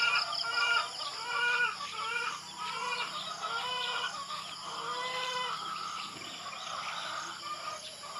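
Rhode Island Red chickens cluck and murmur continuously nearby, a flock chattering in overlapping calls with no one speaking.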